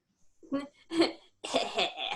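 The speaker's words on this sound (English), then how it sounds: "I just have residual cough." A person with a lingering cold coughing several times, a few separate harsh bursts then a longer rougher run, close and loud with no talk.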